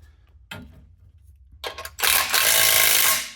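Bolts being tightened on an aluminum front bumper of a Jeep JL/JT: a few scattered mechanical clicks and rattles, then a loud, continuous buzzing whir of a power tool running hard for over a second.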